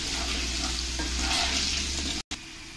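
Potatoes fry in hot oil in a pan with salt and turmeric, giving a loud, steady sizzling hiss that breaks off briefly near the end before resuming more softly.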